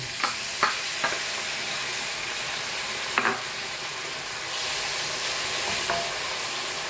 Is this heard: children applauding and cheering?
no